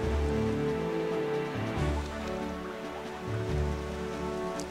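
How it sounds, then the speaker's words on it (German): Steady rain falls in The Legend of Zelda: The Wind Waker HD, a continuous wash of drops over a low rumbling swell, heard alone without any talk. "So, es regnet, das ist immer ein gutes Zeichen."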